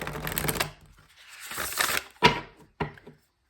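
A deck of tarot cards is shuffled by hand, giving a few separate papery riffles and slaps, each lasting around half a second, with short quiet gaps between them.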